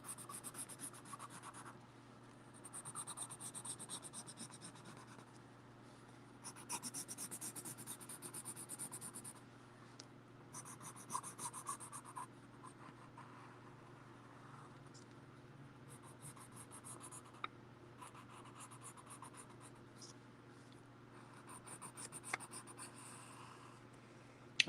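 A pencil rubs back and forth over paper to transfer a traced design, faint close scratchy strokes in irregular bursts with brief pauses, quiet and alone throughout.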